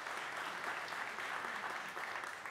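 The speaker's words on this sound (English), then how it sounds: "Let's give him a round of applause." A gathering at a charitable foundation's scholarship presentation gives a round of applause for a recipient, a soft, steady patter of many hands clapping throughout, somewhat distant and quiet.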